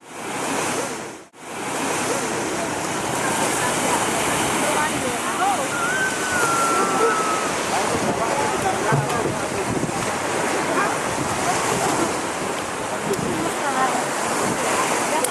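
Ocean surf at Maron Beach, west of Semarang near a river mouth, roars as a constant broadband wash mixed with wind buffeting the microphone, with a brief dropout near the start.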